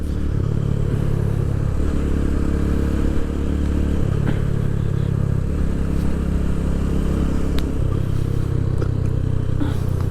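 Motorcycle cruising steadily in fourth gear along a beach-area road, its engine drone constant and close throughout, with a few light rattles and scrapes over the steady hum.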